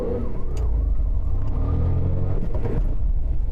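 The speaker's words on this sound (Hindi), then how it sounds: "तो चलिए अब हम लोग इस गाड़ी का 0 to 100 kilometre per hour sprint करते हैं।" A 2020 Skoda Rapid car accelerates hard from standstill toward 100 km/h, its engine note a loud, steady low rumble with rising harmonics throughout, close and continuous.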